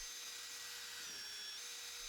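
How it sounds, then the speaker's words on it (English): A power sanding disc wet-sands a faded car headlight, giving a steady, faint, even hiss and whir that runs the whole time with no pauses or talk. "You'll want to do 4 to 6 passes with the sanding disc"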